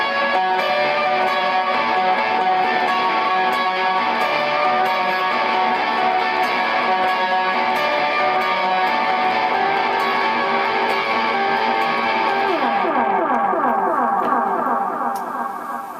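Electric guitar through a pedalboard with distortion and delay rings out in sustained, dirty high notes with repeating echoes, a steady loud wash that thins near the end, with no talking.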